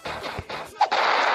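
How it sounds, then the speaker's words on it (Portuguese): Gunfire bursts in the video game Smilodon Rampage, a few loud separated shots followed by a sustained rattling burst, sounding close and punchy. "Que é isso, metralhadora?"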